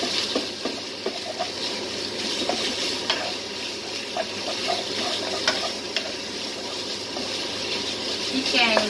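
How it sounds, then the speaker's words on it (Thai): Pork stir-fried in a hot pan as the first step of a Thai red curry with bamboo shoots gives a steady, close sizzle broken by frequent scraping and stirring clicks. "เอาหมูผัดเลยเนาะหมูลงไปผัดก่อนนะคะผัดหมูให้สุก"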